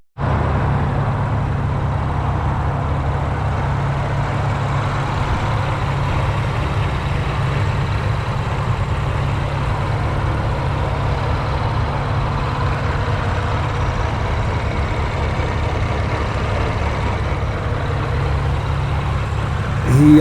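A supercharged 450 hp Chevrolet Colorado ZR2 engine idling, a steady deep low rumble that holds evenly throughout, loud and close, with no talk.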